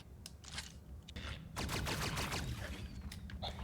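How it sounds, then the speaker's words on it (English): An energy gun fires in a video game, with a run of quick zapping bursts that grows busier and louder halfway through. Game noise sits beneath the shots, and no one speaks. "So let's try the energy gun."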